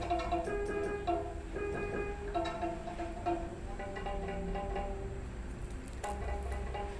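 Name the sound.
violin fourth string G being played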